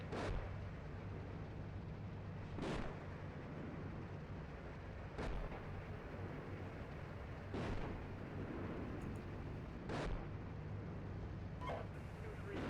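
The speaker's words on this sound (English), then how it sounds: "We'll cover you with artillery" Artillery fire in the Steel Beasts Pro tank simulator: deep, distant booms land about every two and a half seconds over a steady low engine drone, each one a short, heavy thump.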